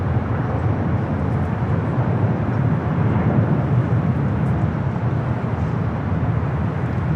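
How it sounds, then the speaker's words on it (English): Nippon Cargo Airlines Boeing 747-8 freighter taking off at Los Angeles airport, a steady, loud broadband jet roar that holds constant throughout with no pauses. "This is Nippon Cargo Airlines Flight 101 taking off to Tokyo Narita on the 747-8 freighter."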